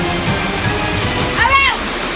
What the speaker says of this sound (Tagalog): Rumaragasa ang kulay putik na tubig mula sa umapaw na sapa sa Alabel, Sarangani.